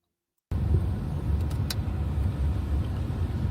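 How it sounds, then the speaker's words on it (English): Car traffic passes on an East Los Angeles street, a soft steady engine and road hum heard from inside a vehicle after a short silence, with no talking. "There's a lot of traffic."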